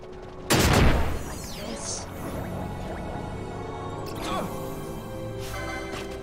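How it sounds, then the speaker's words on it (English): A blast erupts in Final Fantasy 12 Zodiac Age, one loud burst that trails into crackling, sizzling debris and a steady game backdrop with further faint bursts later. "Because of all the explosions, I assume."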